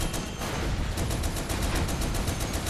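Sustained rapid machine-gun fire in the video game Toy Soldiers War Chest, a dense, loud, continuous rattle of shots with regular bursts running through the whole stretch.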